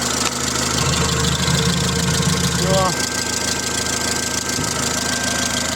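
A Volkswagen Polo 1.4 engine runs steadily at idle, a low even rumble throughout, with a brief rising whine partway through.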